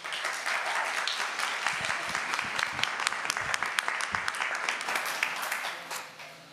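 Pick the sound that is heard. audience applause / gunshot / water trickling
audience applause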